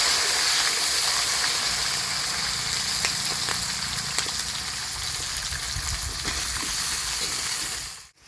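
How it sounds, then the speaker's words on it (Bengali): Beans sizzle and fry in hot oil in a pan for a Medinipur-style vegetable dish, a loud continuous crackling hiss close up that cuts off abruptly at the end. "ভাজছি বিনস।"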